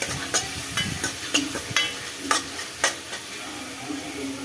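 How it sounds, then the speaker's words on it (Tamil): Onion and tomato sizzle softly as they sauté in a pan while a utensil stirs and scrapes, with sharp clicks every half second or so and no talking. "இப்போ இதை நல்லா வதக்கிக்கலாம்"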